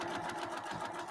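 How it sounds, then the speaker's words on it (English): A sewing machine runs steadily at close range, stitching quilt binding along a drawn line in one continuous even burst with no talk. "Just going to sew along that line that I drew"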